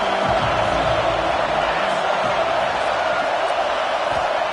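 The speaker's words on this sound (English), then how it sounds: "Decibels rising as the crowd gets behind this defense on third down." A football stadium crowd roars in a dense, continuous wall of noise as fans rally behind the defense on third down, loud and steady throughout.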